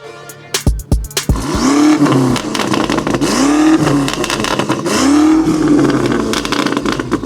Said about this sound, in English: Now, being that this car is a twin turbo V8, we have a Dahler exhaust on with a couple other modifications, and it sounds absolutely nuts.